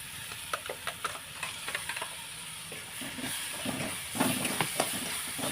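Ground tomato paste fries in hot oil over a low flame in a pan, giving a steady soft sizzle with scattered small crackles and pops throughout.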